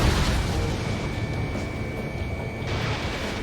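A missile destroys a target in the Ace Combat 7 flight game, a heavy, continuous explosive roar with rumbling low end that persists throughout, loud and close with no voices.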